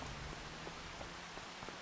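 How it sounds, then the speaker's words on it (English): Rain falls steadily in a farming video game, a constant soft hiss with scattered faint drop taps throughout, no voices over it. "while the rain is still falling."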